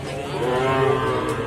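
A calf at a livestock market in Muntilan, Magelang, lets out one loud, close, sustained moo lasting over a second.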